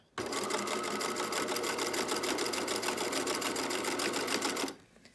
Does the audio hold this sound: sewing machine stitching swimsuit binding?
yes